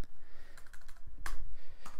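Several keys are struck on a Mac keyboard while a terminal command is entered, light uneven clicks close by over a faint background hum, with no speech.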